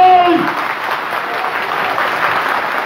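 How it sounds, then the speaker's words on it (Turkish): A crowd at a breakfast gathering of a community association applauds for a neighborhood headman candidate, a steady wash of clapping right after a brief voice at the start. "Muhtar adayı için alkış yapıyoruz."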